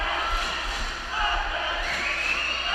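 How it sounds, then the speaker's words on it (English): Crowd at a girls' water polo semifinal cheering loudly, a dense sustained roar of many voices that swells again partway through. "Crowd gets fired up."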